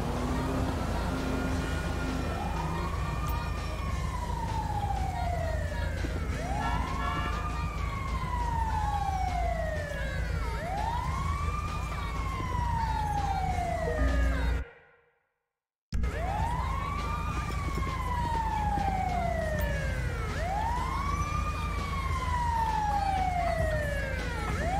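Wailing emergency vehicle siren from the video game GTA 5 during a police roleplay, sweeping up and down in steady repeated cycles, loud and close over a low engine rumble, briefly cutting out midway before resuming.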